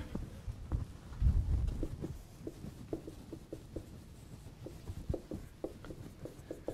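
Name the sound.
writing a word down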